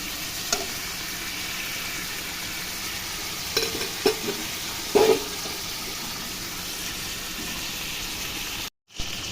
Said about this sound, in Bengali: দেখো পেঁয়াজের সাথে আমি চিকেনটাও হালকা করে ভেজে নেব।